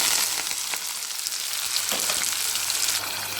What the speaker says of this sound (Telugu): ఇప్పుడు మనం ఆల్రెడీ కట్ చేసి పెట్టుకున్న ఆనియన్స్ వేసుకుంటాం